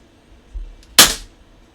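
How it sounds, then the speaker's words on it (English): A Daisy Model 35 air pistol fires once at a spinner target, a single sharp close crack preceded by a soft mechanical click, with quiet around it. "I'm going to shoot at a spinner on the side."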